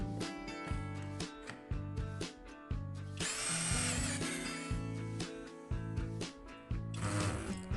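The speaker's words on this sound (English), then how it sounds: "To see how this impact drill works" A Lotus cordless brushless impact drill runs in loud bursts, whirring with rapid hammering, stopping and restarting several times and revving harder midway, with no talk.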